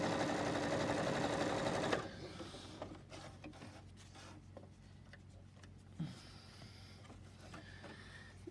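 A Juki HZL-LB5020 sewing machine stitches through three layers of denim, running in a steady fast whir that stops after about two seconds, followed by small clicks and handling sounds nearby.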